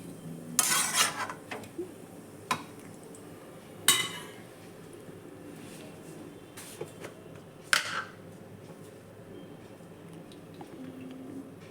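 A lid clinks down onto a pot of cabbage ghonto cooked without spices, giving a few sharp metallic clatters spread several seconds apart over a quiet kitchen background.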